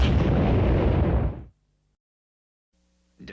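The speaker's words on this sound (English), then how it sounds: "you can just sit back and watch the little guys explode" Lemmings bursting apart in the Sega game Lemmings: a loud, dense roar of exploding pops fills the first second and a half, then cuts to near silence before a faint tonal game sound returns.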